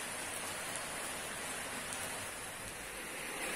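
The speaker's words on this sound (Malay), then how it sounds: "Tapi hari hujan lebat." Heavy rain pours in a steady, dense hiss that fills the whole stretch without a break, loud and close, with no voices over it.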